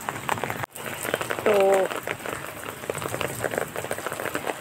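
Heavy rain pouring down in a steady, dense hiss close by, heard from under an umbrella, with someone talking briefly over the downpour.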